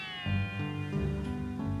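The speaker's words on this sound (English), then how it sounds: "Taylor's pet sitting Marge's cats" A pet cat gives a short series of meows in quick succession, close and fairly loud over a steady tonal background.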